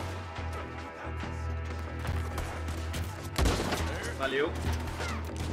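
Gunfire in Red Dead Redemption 2 crackles as a burst of shots in a firefight, mixed with a steady game soundtrack, while someone talks in Portuguese over it.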